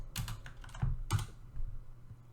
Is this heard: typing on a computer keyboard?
yes